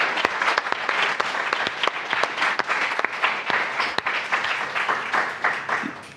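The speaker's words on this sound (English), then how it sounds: "Can we have a big round of applause for Skeleton Crew?" Audience applause for Skeleton Crew at Celebration Japan 2025, a loud, dense crowd clapping that holds steady with crisp individual claps throughout.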